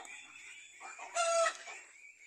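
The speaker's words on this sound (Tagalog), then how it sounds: "Yan ang isang inahin ko naglilimlim" A native chicken hen broods near a pen that also holds ducks, producing a short run of clucking calls that rises into a louder crow-like squawk midway, heard close up with no talk.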